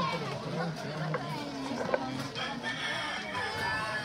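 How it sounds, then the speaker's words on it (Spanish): A rooster crows from some distance, its call mixed into steady outdoor background noise while a person talks nearby. "Allá nomás el gallo, qué bonito."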